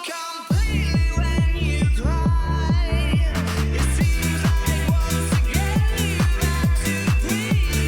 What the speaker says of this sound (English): So I've just added this sort of fake drop here.